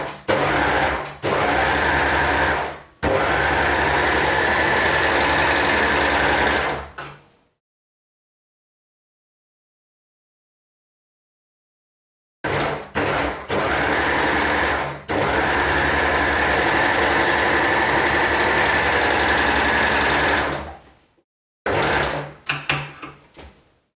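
An overlocker sewing and trimming a fabric edge runs in loud, steady bursts, stopping for several seconds of silence midway before starting again with brief start-stop runs.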